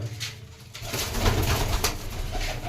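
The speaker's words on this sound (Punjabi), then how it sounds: "ਆਪਾਂ ਅੱਜ ਕਬੂਤਰ ਛੱਡਣ ਲੱਗਿਆ" Pigeons coo in a low, repeated throaty rhythm, close and fairly loud, with a pair being released for flight, including one bred with a black tail, against a faint rustling background.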